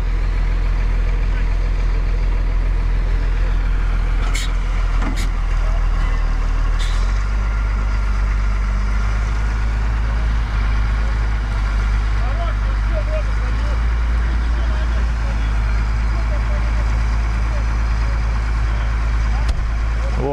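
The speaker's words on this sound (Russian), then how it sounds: "Напомню, тянем трактором." A tractor engine rumbles loud and close, working steadily as it tows a sunken Chevrolet Niva out of water, with people talking over the drone throughout.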